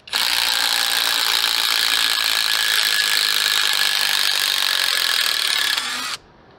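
A Skil impact driver backs a 3-inch construction-grade screw out of wood with a loud, continuous rapid hammering rattle that runs for about six seconds, then stops abruptly.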